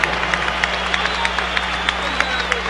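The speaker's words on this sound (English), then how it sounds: "Let's have a round of applause for these two heavyweights." A boxing arena crowd applauds the heavyweights, a dense steady wash of clapping with faint cheering and a low background hum.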